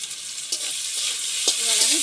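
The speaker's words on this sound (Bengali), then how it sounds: "এবার আমি ভালো করে ভেজে নেব" Tomato and salt fry in a pan for a Bengali katla fish curry with cauliflower, giving a steady close sizzle with a few brief stirring clatters and no talk.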